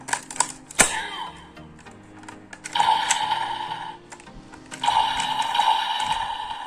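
Electronic gun sound effects from a Kamen Rider Geiz DX Zikan Girade toy weapon: a short zap, then two sustained buzzy, beeping bursts a couple of seconds apart, close and fairly loud.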